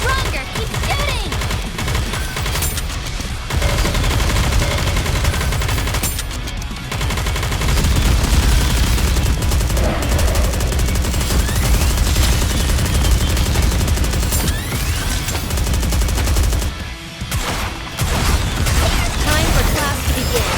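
Continuous rapid gunfire in the mobile shooter Goddess of Victory: NIKKE, loud and dense over a music bed, with brief pauses and a voice speaking over the barrage.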